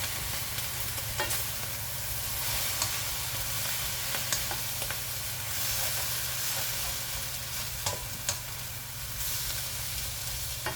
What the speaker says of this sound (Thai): ใส่น้ำลงไปนิดนึงค่ะให้วุ้นเส้นสุกค่ะ